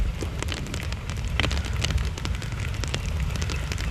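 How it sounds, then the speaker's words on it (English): Heavy rain pours down steadily outdoors at a surveying site, a dense continuous hiss with scattered sharp drops pattering close to the microphone. "it's raining like the dickens"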